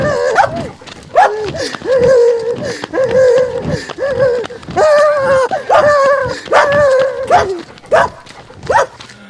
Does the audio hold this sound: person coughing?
no